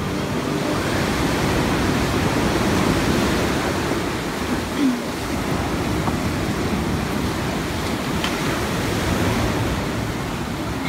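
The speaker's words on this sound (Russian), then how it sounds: "Очень приятно шумит море." Sea waves rolling onto a beach at Alanya, Turkey, beside a hotel pier, a steady loud wash of surf with no pauses and a little wind noise over it.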